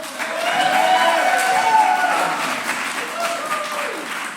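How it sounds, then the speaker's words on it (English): A live audience at a comedy show in an echoey festival venue bursts into applause mixed with cheers and whoops, sustained and reverberant throughout. "1, 2, 3, round of applause!"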